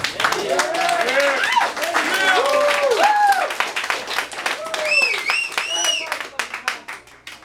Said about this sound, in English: Give a big round of applause to Justin King.